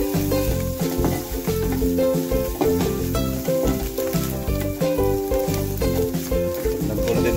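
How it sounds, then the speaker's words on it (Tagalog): Pork innards sautéing in a little oil, a steady loud sizzle and crackle that runs the whole time beneath prominent tonal background music. "Hayaan natin ang konting mantika. Sangkutsayin na natin siya."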